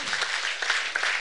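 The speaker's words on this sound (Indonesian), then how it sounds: "Tepuk tangan, good." A church congregation claps together in a brief burst, a handful of quick, bright hand claps blending into a short ripple of applause.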